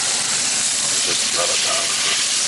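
Beef for spaghetti bolognese sizzling in a hot pan, a loud continuous broadband hiss filling the whole clip, with faint speech underneath.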